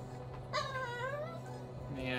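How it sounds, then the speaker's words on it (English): A dog gives a faint, high, wavering whimper that slides down in pitch, then a short rising yip near the end, heard alone at low volume. "my dog is making noises here"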